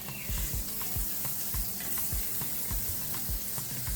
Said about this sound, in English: I'm just gonna put the butter in the pot to melt.